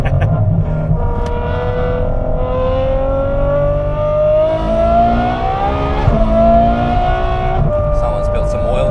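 A Ferrari F12 V12 pulls hard on the road near the Nürburgring, a rising engine note climbing through the gears with a brief dip at a shift, heard close from inside the car under faint chatter.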